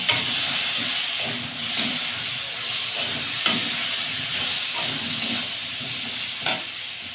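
Taro and potato sauté with salt in a pan, giving a continuous hissing sizzle with repeated soft scraping and stirring knocks at irregular intervals.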